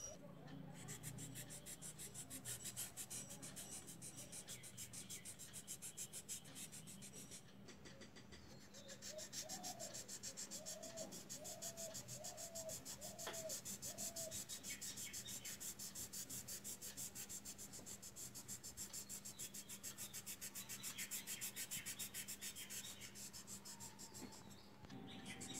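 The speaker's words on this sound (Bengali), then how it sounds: "আপনারা দেখতে পাচ্ছেন আমি কিভাবে ব্লেন্ড করছি।" Oil pastels blended on paper with tissue, soft repeated rubbing and scraping strokes, faint and close, with a low hum beneath and no clear talking.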